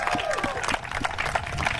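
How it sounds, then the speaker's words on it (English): Crowd applauding an athletic director and a baseball coach at a Razorbacks event, a dense wash of clapping with scattered sharp claps and some voices mixed in, heard for a short moment. "Give them all a round of applause"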